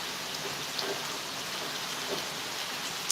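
Heavy rain falls as a steady, dense hiss of drops on surfaces during a morning downpour, fairly loud and continuous, with a few sharper drips standing out and no voices.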